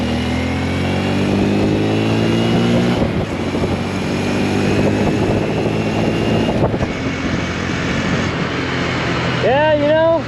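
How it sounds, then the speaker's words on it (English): A 2023 Honda Grom 125 motorcycle engine drones loudly and steadily, with the pitch shifting through the run and a burst of rising revs near the end. "We'll do one more pull for you on the 23 Grom."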